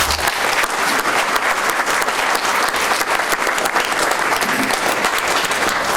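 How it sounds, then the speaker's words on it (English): Loud, unbroken applause from the audience at a school board meeting, a dense wash of clapping filling the room evenly for the whole stretch. "So let's give them a round of applause."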